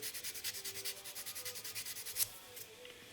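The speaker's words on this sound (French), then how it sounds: "là j'ai besoin de passer un petit peu de ponçage" Small part of a 1/25 Revell Mitsubishi Eclipse scale model car sanded by hand, with rapid, even back-and-forth rasping strokes, close and quiet, then a brief tap and stillness.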